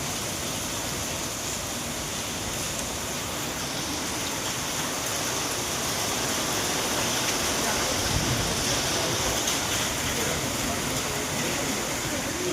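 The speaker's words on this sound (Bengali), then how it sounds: "সাংঘাতিক বৃষ্টি হচ্ছে, তার সঙ্গে ঝোড়ো হাওয়া প্লাস ভর্তি বৃষ্টি" Heavy rain driven by stormy wind, a dense, steady roar of downpour that stays loud and unbroken throughout.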